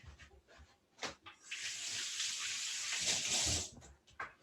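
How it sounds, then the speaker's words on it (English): Hands rinsed under a running kitchen tap while making raw vegan sandwiches: a steady splashing stream of water lasting a few seconds, close and clear, with small clatters before and after. "I'm just going to rinse my hands here."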